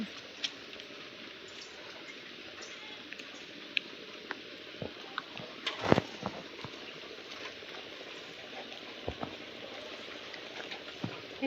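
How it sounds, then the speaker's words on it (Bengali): Rain falling steadily on canal water outdoors, a soft continuous hiss with scattered drop ticks and a few sharper splashes throughout, fairly faint and without talk. "সুন্দর বৃষ্টি একদম"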